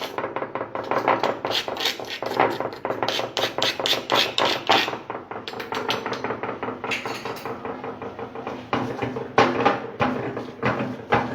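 A kharda, an iron pounding and scraping tool, works a spice paste for thecha in a home kitchen, giving dense repeated metallic thuds and rasping scrapes at a quick, uneven rhythm, close and loud, with no talk.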